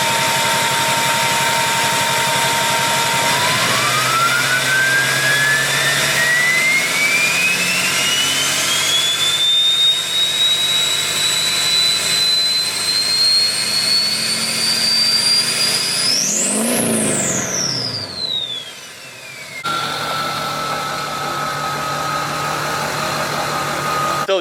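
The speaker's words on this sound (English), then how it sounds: "anybody want to know what a Ryan's Diesel Service 68mm turbocharger sounds like on a 5-inch" A diesel truck fitted with a Ryan's Diesel Service 68mm turbocharger on a 5-inch downpipe exhaust spools up with a jet-like whine that climbs steadily and peaks sharply before dropping back, all loud and close with the engine rumbling beneath.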